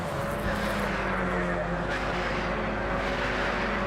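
Mazda MX5 race cars sweep past on the Castle Combe circuit, a steady engine drone holding near throughout with a rising pass around the middle, a commentator talking over it.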